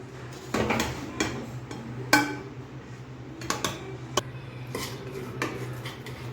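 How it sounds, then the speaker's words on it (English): Part-cooked basmati rice being spooned into a cooking pan for egg dum biryani, giving scattered close clinks and scrapes of a metal spoon against the pan over a low steady hum, with no voices. "I'm just putting a layer of basmati rice on"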